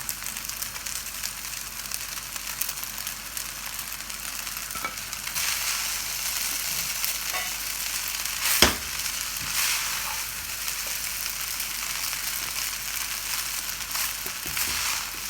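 Egg being added to a hot wok of Chinese chicken fried rice over high flame, giving a steady broad sizzle with occasional stirring scrapes and one sharp clink, no talking.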